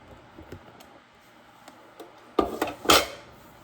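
A food processor canister is lifted and handled in a kitchen, giving light plastic clicks and knocks, then a few louder clattering bumps near the end, close and otherwise quiet.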